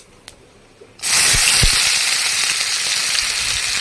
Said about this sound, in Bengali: মাছের তেলের মধ্যেই এখন এই তেজপাতা আর এই দুটো শুকনো লঙ্কা ছেড়ে দেবো তার সঙ্গে দেব জিরে ফোড়ন এবার দেবে এই রসুনের কুচিগুলো